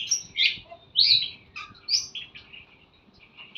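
Small birds chirping and singing up close, a series of bright, sharp tweets in irregular bursts with quiet gaps, alone over a faint low hum.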